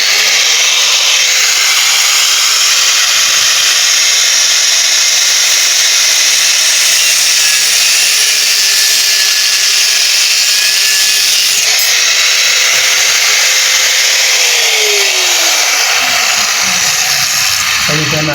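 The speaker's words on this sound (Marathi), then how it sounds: "हे बघा सल्या कापतो." A power tool cuts through a metal bar during fabrication work with a loud, continuous whining grind that holds steady and then drops in pitch near the end, close up and dominating.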